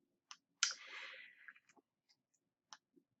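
A few sharp, close clicks of a computer keyboard key, scattered singly over a few seconds, with a brief softer rustle or scrape in between against near silence.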